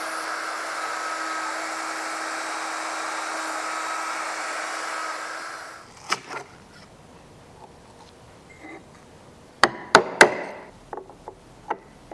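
A domino joiner cuts mortises in wood in one steady, loud whine for about six seconds, then stops; a few sharp knocks and taps follow.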